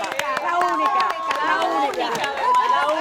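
A live studio audience on a Dominican talk show claps and cheers in dense, continuous applause, with crowd chatter and voices mixed throughout.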